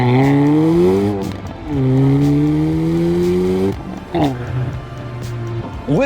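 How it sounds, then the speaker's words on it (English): A 2025 Hyundai Elantra N's active exhaust sings through rising and falling revs while driving, sweeping tones shifting between gears with a few crackling pops, loud and close, with a voice briefly over it. "It's got some pops and bangs that it does in the N mode"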